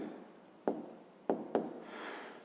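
Pen strokes on paper while a fifth-grade math division solution is written out, three sharp scratchy taps standing out over a soft room hiss, with a faint rustle of writing at the end.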